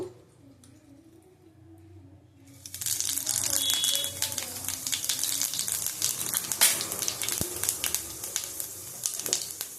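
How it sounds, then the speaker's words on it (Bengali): Panch phoron spices hit hot oil in a wok after a quiet start, breaking into a loud, steady sizzle with crackling pops and occasional stirring clinks, and a voice speaks at the beginning. "ফোড়ন ভাজা হয়ে গেছে"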